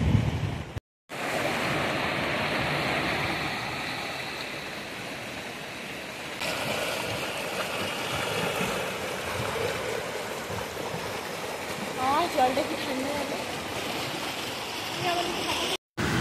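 Fast-flowing river current gives a steady, broad rushing roar that runs through the whole stretch, with wind buffeting the microphone. Someone talks briefly over it.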